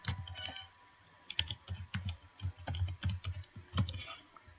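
Fast bursts of clicking keystrokes on a computer keyboard as an email address and password are typed in, close and crisp with short pauses between runs of keys.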